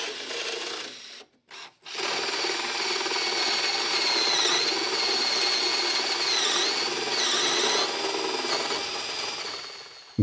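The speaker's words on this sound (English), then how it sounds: "grab my Forstner bit so I can drill a pretty quick pilot hole" Forstner bit drilling a quick pilot hole in a plywood garage shoe-storage panel backed by a backer board, giving a steady close grinding, rasping whir that pauses briefly near the start and then runs continuously.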